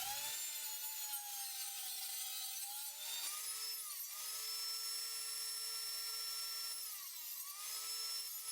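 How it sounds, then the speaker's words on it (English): A table saw cuts wooden base pieces for a lathe sphere-making jig, giving a steady, loud, high-pitched whine with a slight dip in pitch as the blade bites into the wood, heard alone with no talk. "First, I cut the pieces for the base on the table saw."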